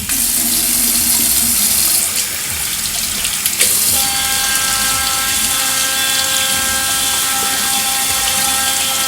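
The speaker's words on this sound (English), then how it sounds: "usually what I do after that is open up the cap and rinse the inside as well." A Panasonic Arc5 waterproof electric razor is rinsed under a running tap, with a steady loud hiss of water splashing into a sink and a faint motor whine through the second half.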